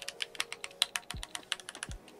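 Keys clack on a Keychron Q3 TKL mechanical keyboard fitted with brown switches, a quick run of crisp, close taps with a couple of deeper thocks from larger keys, some sounding slightly pingy.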